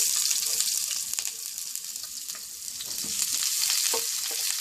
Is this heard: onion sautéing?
yes